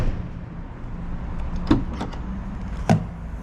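Trunk of a 2022 Volkswagen GTI Mk8 opening, with two short mechanical thumps or clunks a second apart over a quiet background, the second slightly louder.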